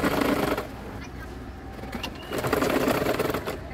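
A sewing machine stitches around the edges of a petticoat in two steady, whirring runs separated by a pause, with someone talking over it in the foreground.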